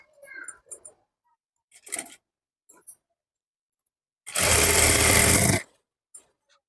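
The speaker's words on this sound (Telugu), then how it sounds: "ఇలా లైనింగ్ పైన ఒక స్టిచ్ అయితే వేసుకోవాలి" A sewing machine runs in one short burst of about a second as it stitches along the lining of a blouse, with scattered soft clicks and handling noises before and after in a quiet room.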